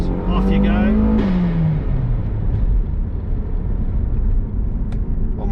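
A Toyota Caldina GT4 all-wheel-drive turbo wagon with a 3S-GTE engine accelerates hard under boost, its loud, steady engine drone rising in pitch before easing back down.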